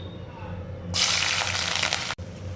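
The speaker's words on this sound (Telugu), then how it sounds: "ఇప్పుడండి పచ్చిమిరపకాయలు, ఉల్లిపాయలు కట్ చేసుకున్నాను, ఇవి వేసేసుకుంటాను" Chopped green chillies and onions hit hot oil in a pan for a prawn gongura curry, setting off a sudden loud, close sizzle that hisses steadily and briefly cuts out before resuming.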